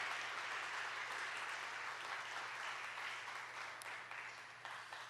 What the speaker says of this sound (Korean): 우리 축하의 박수 부탁드립니다